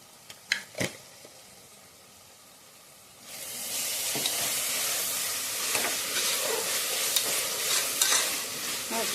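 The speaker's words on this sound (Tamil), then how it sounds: "போட்டு நல்லா கிண்டி விடுவோம்." Chilli powder fries in a pan for chicken biryani as it is stirred, with a few light scrapes early on, then a steady loud sizzle and hiss from about three seconds onward.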